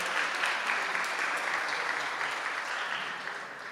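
An audience at a summit session in a hall applauds steadily, a dense even clapping that stays moderately loud and slowly fades toward the end.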